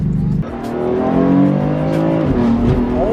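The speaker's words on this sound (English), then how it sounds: "He said it has the M performance fucking exhaust." A BMW F80 M3 with an M Performance exhaust accelerating hard, its engine note rising steadily through the revs with a brief drop at a gear change, loud and close from inside the car, with faint tire noise.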